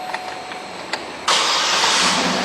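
A 2010 Cadillac Escalade ESV engine cranks and catches, jumping suddenly from quiet clicks into a steady, loud idle.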